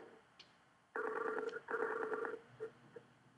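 A phone call rings out unanswered, two long buzzy ring tones in a row heard faintly through a speaker, followed by small quiet clicks and no voices.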